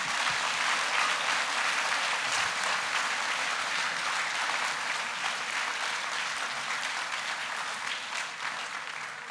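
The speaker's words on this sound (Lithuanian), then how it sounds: "padėkokime visiems čia susirinkusiems mokytojams aplodismentais ir ovacijomis" An audience applauds teachers at the 92nd graduating class's hundred-days celebration at Maironis University Gymnasium in 2019, with sustained, dense clapping from a large crowd that holds steady and eases slightly near the end.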